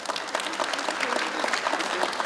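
Audience clapping at a 2023 Korean agriculture future innovation forum, a dense, steady burst of many hands filling the room for a couple of seconds.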